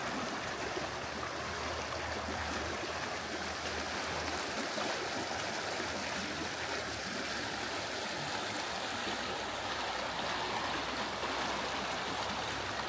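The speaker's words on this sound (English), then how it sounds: "This is more like a regular mountain springs." A mountain spring stream flows in Yellowstone National Park, making a steady, close rushing and babbling sound that carries on without a break and with no voices.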